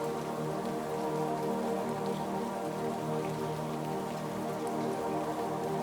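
Steady rain pours onto a surface in a dense, constant hiss with fine pattering drops, even in loudness throughout and free of voices.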